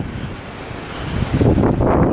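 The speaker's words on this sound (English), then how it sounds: "Now it's just really, really windy." Strong Hurricane Matthew wind roars and buffets the microphone outdoors, a rough, loud rush that builds stronger in the second half.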